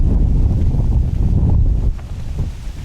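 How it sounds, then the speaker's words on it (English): Strong wind of 35 to 40 mph buffets the microphone in the woods at a bowhunting blind, a loud continuous low rumble of gusts that eases slightly near the end. "with this wind blowing 35 to 40 miles an hour"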